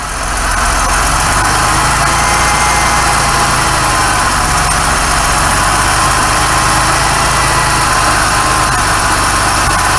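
A 1991 Oldsmobile Cutlass Ciera engine idles roughly after its fuel injectors were replaced, a steady, close, loud running hum with an uneven low pulse throughout and no talking.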